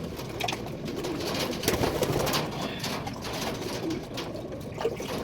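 Racing pigeons of a Mustang Cross Adonis breeding line cooing continuously at close range, soft overlapping throaty coos with a faint trickle of water beneath.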